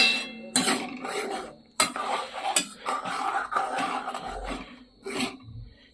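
A utensil scrapes and clinks against a pan in repeated strokes, a close metallic clatter of stirring with no talking.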